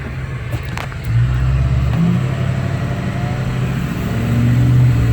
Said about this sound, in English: Truck has plenty of power